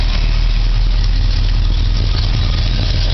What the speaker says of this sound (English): Starts up pretty nicely.